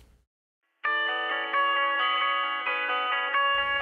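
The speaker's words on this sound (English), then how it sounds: "added basically a telephone filter to these opening bars" An electric guitar intro playing through a narrow telephone-style filter, thin and band-limited with chorus and echo, a steady sustained phrase entering after a short silence and ringing on alone for about three seconds.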